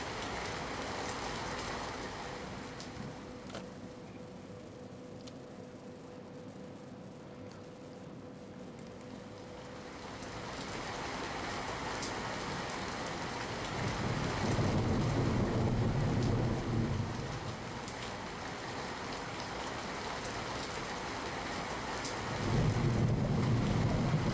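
Heavy monsoon rain in the Rajula area of Amreli hisses steadily at a distance, broken by low rumbles of thunder that swell and fade, the storm growing heavier toward the end.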